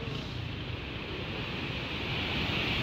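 Floodwater roaring through Taunsa Barrage during a heavy flood, a dense, steady rushing roar that grows slightly louder, with no voices.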